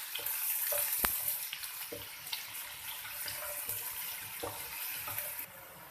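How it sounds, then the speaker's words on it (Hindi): Chopped onions frying in oil to a light golden colour for keema, a faint steady sizzle with occasional soft clinks and stirring scrapes from the pan. "इसलिए हमें इसके अंदर प्याज को चॉप डालना है और इसको लाइट गोल्डन कलर देना है।"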